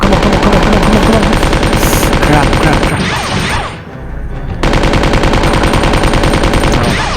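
Rapid, loud automatic gunfire from a gun in the Resident Evil 2 video game, a dense hammering stream of shots that breaks off for about a second before resuming just as heavily.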